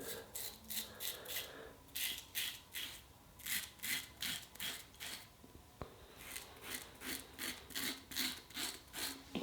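Parker Adjustable Injector single-edge razor on its most aggressive number 5 setting rasps through whiskers in steady, rhythmic strokes, close and crisp, with a short pause midway before the scraping strokes resume.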